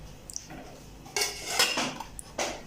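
Metal vessels clanking inside a pressure cooker as a small trivet and a pot are set down, a few sharp, close metallic knocks and scrapes in bursts against a quiet kitchen background.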